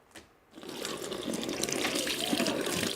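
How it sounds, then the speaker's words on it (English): Water runs steadily from a tap as hands are rinsed, starting after a brief click and hissing close and clear for a few seconds, with no talk. "Next, we need to rinse our hands in the tap."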